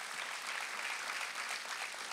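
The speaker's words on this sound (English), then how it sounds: "come on, clap together if you're thankful" A church congregation claps together in a steady, dense burst of applause at a worship service. It sounds fairly faint and distant, with no clear speech on top.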